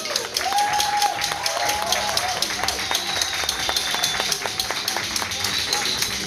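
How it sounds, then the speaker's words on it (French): Audience applauding at a live show: steady, rhythmic clapping in quick even beats throughout, with a voice or singing carrying over it. "Applaudissez très fort pour moi j'ai."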